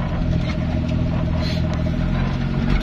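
Steady engine drone of a motorcycle, continuous and fairly loud with a low rumbling hum throughout, heard close by with no talking.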